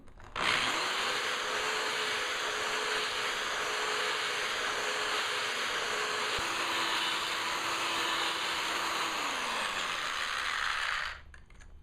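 Continuous high whirring and gritty grinding as a Glastar diamond drill bit, moved in small circles, bores a hole through stained glass, loud and close, holding steady for about ten seconds with a slight pitch drop before stopping abruptly.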